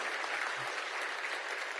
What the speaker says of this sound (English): Can I get some applause? Come on.